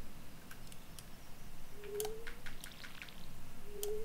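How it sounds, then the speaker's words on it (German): A watering can pours in the farming game Stardew Valley: quiet, brief splashy trickles with small ticking drips and a couple of short rising chime tones, all soft and alone. "Jetzt, ich höre Gießkannen."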